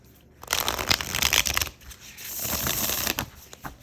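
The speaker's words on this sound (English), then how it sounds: "You can riffle shuffle it. It is just slides right through." A tarot card deck is riffle shuffled in two quick rattling bursts. The close, crisp flutter of the cards slides together, separated by a brief pause.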